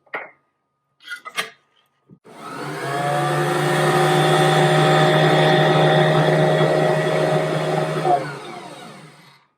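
A stand mixer whirs through thick pumpkin cheesecake batter, a loud steady motor hum lasting about six seconds before it winds down, preceded by a few brief clicks and knocks.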